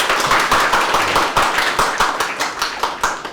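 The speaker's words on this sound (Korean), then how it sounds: "박수, 큰 박수 부탁드립니다." A lecture audience at a Seoul talk claps together in a loud, steady rhythm of sharp, closely spaced hand claps that keeps going without pause and with no talking.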